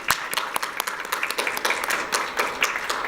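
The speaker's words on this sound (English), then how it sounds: "so we can give you a round of applause for work well done" A lecture audience applauds an honoree rising to stand, a scattered, moderately distant clapping with distinct individual claps at an uneven rhythm, sustained and without talk.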